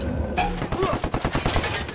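Gunfire in the Ghost Recon Wildlands video game, a dense rapid burst of shots, loud and close.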